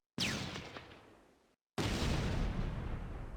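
Heavy gunfire and explosions from the WWII tactics game Close Combat: A Bridge Too Far, with a loud blast that decays, a brief gap, then a second dense, rumbling burst of fire, with no talk.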